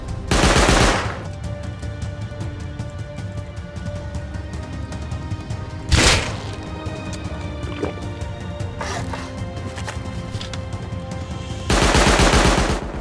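Automatic turrets in the survival game Rust loose rapid bursts of gunfire, with loud volleys at the start, around six seconds and at the end, and dense, steady firing in between.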